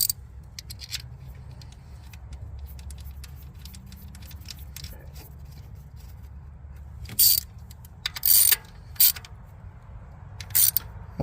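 A ratchet snugs a coil pack back onto a spark plug on a 2018 Toyota RAV4, heard as bursts of sharp ratcheting clicks in the second half over a low background hum.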